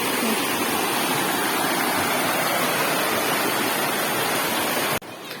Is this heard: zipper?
no